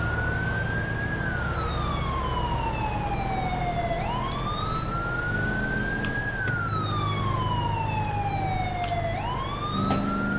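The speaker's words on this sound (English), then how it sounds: "Oh, I hear sirens." A police siren in GTA V wails in long, slow rising and falling sweeps, loud and continuous over a low engine rumble.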